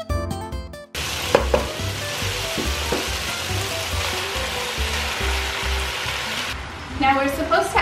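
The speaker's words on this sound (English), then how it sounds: "Now I'm going to place the chicken in with the garlic, onion, and tomato to start browning it" Chicken browns in a hot pan with garlic, onion and tomato, a steady sizzling, constant crackling hiss with a few clinks of utensils.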